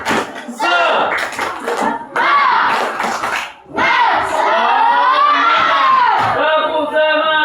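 Schoolchildren in a classroom chant together while clapping in rhythm during a class clap routine, loud and close, voices dominating with claps mixed in.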